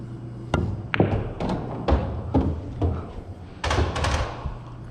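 Cue ball strikes in an 8-ball pool game: a series of sharp, close knocks and thuds of balls hitting and rolling against rails, spaced irregularly over a few seconds with no talking.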